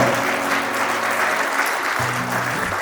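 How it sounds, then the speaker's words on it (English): Wedding guests applaud the newly married couple with a thick, continuous burst of clapping, loud and close, while a low musical hum runs underneath. "So give a big round of applause for just married, just engaged couple."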